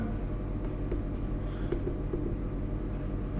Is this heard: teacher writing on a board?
yes